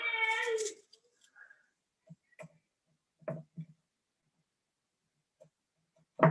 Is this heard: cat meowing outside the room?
yes